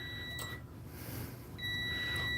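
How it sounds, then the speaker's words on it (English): A multimeter gives a continuity-test beep while touched to a fuse holder, a steady electronic tone that sounds, briefly drops out, then resumes, quiet and close. "Okay, so we have a beep, so that's a good continuity."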